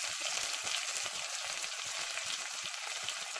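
Onions, tomatoes and ginger frying in a pot: a steady, close sizzling hiss with soft crackles and faint stirring, alone without talk.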